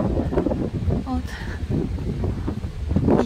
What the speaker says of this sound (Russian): Правда, очень сильный ветер.